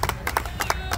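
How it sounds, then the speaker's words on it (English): A brief burst of hand clapping, a few sharp claps in quick succession from a small group at a golf tournament. "I want a big round of applause"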